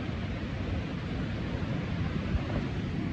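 A waterfall on the Ruta de las Cascadas in Baños, Ecuador pours down as a constant, full-bodied roar of rushing water, steady and unbroken with heavy low rumble and no voices.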